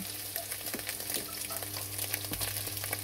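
Cooking oil sizzling in a pan for black fried rice, a steady crackling hiss throughout with faint stirring scrapes and no talk.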